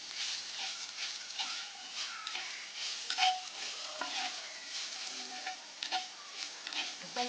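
A pan of drumstick curry in oil is stirred, giving a soft continuous sizzle with repeated scraping strokes and small clinks of a spoon against the pan, close but fairly quiet, with no talking.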